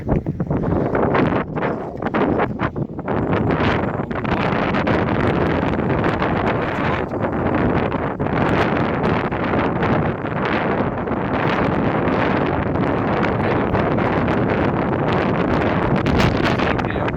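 Wind buffets the microphone at a seaside outfall jetty, Eastleigh Pier, in a loud, continuous roaring rush with gusty surges and rustling throughout, and no voices.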